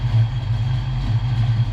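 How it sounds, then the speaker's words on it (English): A Foxbody Mustang's engine idles just after starting, a loud, steady low rumble close by with a slightly uneven pulse and no talking. "the car fired right up on the shitbox computer"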